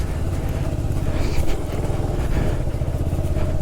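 An off-road motorcycle engine roars loud and close as the bike pushes through heavy snow at Bir Billing, a continuous rough, throbbing drone with no talk over it.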